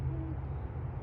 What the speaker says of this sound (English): It's 2 owls.